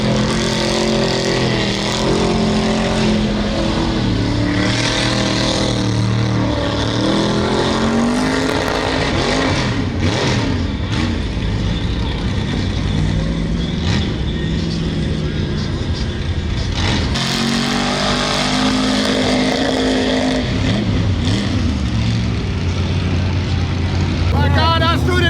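A naturally aspirated 632 cubic inch mud truck engine at a Louisiana mud event roars and revs in loud, sustained surges over a steady crowd din, with people talking throughout.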